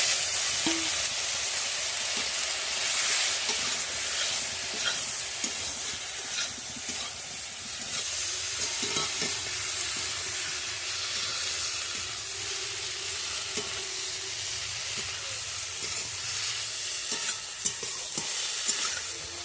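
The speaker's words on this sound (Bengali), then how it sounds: "এবার ফুলকপিগুলো দিয়ে দেবো, তেলে ভেজে নেব ভালো করে।" Cauliflower pieces fry in hot oil in a pan, producing a steady, close crackling sizzle with occasional stirring scrapes and light utensil taps throughout.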